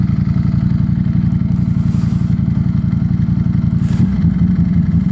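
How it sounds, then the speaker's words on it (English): A Ducati Streetfighter V4 motorcycle engine running with cylinder deactivation, a loud, steady, lumpy low-pitched throb with a brief rougher change near the end, heard close up over wind rush. "You guys can hear the cylinder deactivation there."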